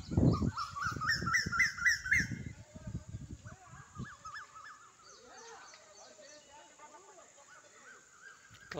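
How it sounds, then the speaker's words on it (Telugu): Hens call outdoors in a cool, breezy rural setting, giving a run of repeated high squawks at first, then scattered fainter cries, with a voice talking quietly underneath. "పెట్టలు అరుస్తున్నాయి."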